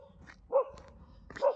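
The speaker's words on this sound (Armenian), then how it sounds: "Ու այդ հաչոցին տեսեք" A stray dog lets out two sharp, close barks about a second apart, with quiet between them and no other voices.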